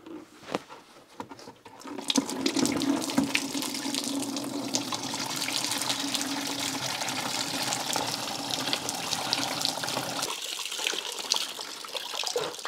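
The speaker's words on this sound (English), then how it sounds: "So now I'm gonna go ahead and drain that coolant." Coolant draining from a Citroën Visa GTI engine splashes steadily into a bucket, a continuous close pouring rush with a few brief spatters at the start, then a brief tapering near the end.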